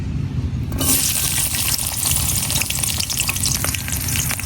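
Garlic and onion sizzling in hot oil in a pan, browning for a bottle gourd and lentil dish, a steady loud frying hiss that swells after a brief quieter start, with no voices.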